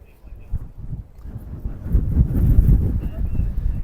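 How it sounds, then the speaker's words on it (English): Gusty wind buffets an outdoor microphone in a crowded area, low rumbling blasts building in strength and staying loud toward the end. "It's slightly windy today, so bear with the audio."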